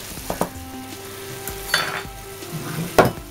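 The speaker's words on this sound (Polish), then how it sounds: "Także mieszamy." Burrito filling seasoned with salt and pepper sizzles in a frying pan while a utensil stirs it, with steady frying hiss broken by several scraping strokes and clinks.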